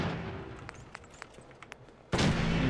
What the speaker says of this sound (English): They're shooting stuff